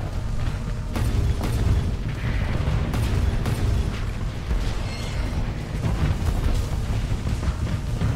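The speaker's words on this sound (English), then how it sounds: "When that torpedo hits him" Torpedo and missile blasts as ships are hit in the space combat game Starsector, a dense roll of deep booming explosions and bursts layered over one another, with sharper impact cracks every second or so and no talk.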